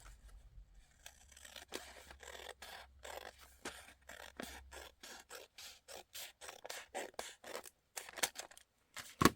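Scissors cut along the sides of a used paper envelope in a long run of quick, rhythmic snips and paper scrapes, close and fairly quiet, speeding into rapid cuts near the end.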